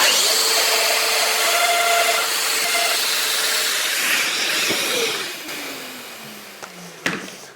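A Festool Domino DF700 joiner cuts an angled mortise in wood with a loud, steady whine for several seconds, then spins down with a falling tone, followed by a brief knock.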